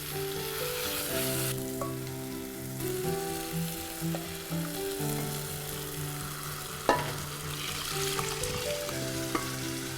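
Onion and garlic sauté in oil with salt for shahi mixed dal, a steady close sizzle with occasional spoon clinks, heard under melodic background music.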